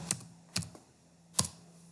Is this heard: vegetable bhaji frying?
no